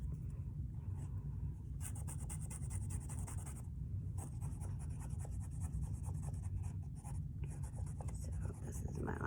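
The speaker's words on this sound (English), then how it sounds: "You can write words, you can draw hearts or stars or" A Sharpie marker scratches and rubs continuously against shirt fabric while drawing, a close, busy scribbling texture over a low steady background hum.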